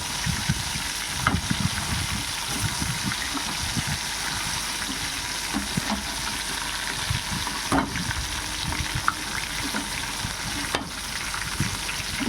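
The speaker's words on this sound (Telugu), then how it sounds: "ఇలా రెండు వైపులా కూడా మనం తిప్పుకుంటూ అవి మొత్తం ఫ్రై అయ్యేలాగా ఫ్రై చేసుకోవాలి" Chicken leg pieces fry in a pan of oil over a low flame, a steady close sizzle and crackle with occasional soft pops, continuous throughout and without talk.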